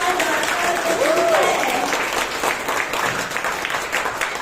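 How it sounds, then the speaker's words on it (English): Audience clapping for an executive director at a confidence-building event, a broad steady wash of applause with a voice speaking over its opening moments. "please join me in giving a warm round of applause to our executive"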